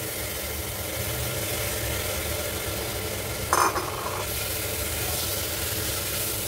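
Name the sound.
stirring rice and spices in a pan for khichuri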